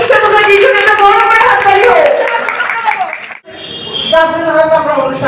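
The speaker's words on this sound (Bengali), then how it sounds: "শৈলিশা মুখার্জির জন্য একটা বড় করে হাততালি হোক" An audience at a club's Independence Day celebration claps under loud, overlapping voices that sound like children talking or chanting. The clapping drops out briefly in the middle and then resumes along with the voices.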